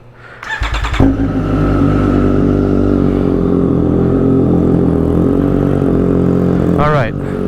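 Cold start of a 2020 Triumph Street Triple RS fitted with an SC Project S1 exhaust: the starter cranks briefly, then the engine catches and settles into a loud, steady, rumbling idle before a quick blip near the end.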